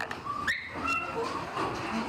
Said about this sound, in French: ils peuvent toucher les chiots, les caresser et les prendre dans les bras